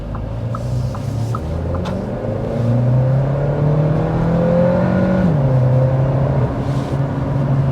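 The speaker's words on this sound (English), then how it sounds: "let's go ahead and start with a hard acceleration" A 2024 Audi A3 with a 2-liter turbocharged four-cylinder pulls hard from a start, engine pitch climbing steadily through the revs, briefly dipping at a gear change and then rising again, loud and close from inside the car.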